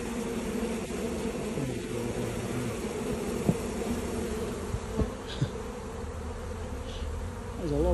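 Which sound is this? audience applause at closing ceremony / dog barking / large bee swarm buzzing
large bee swarm buzzing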